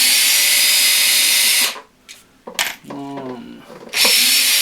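A power screwdriver buzzes loudly near the start and end while removing screws from a Blackstar HT5 guitar amplifier, with a brief quieter gap between the two runs.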